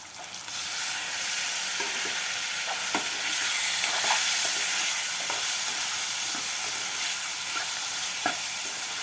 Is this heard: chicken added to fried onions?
yes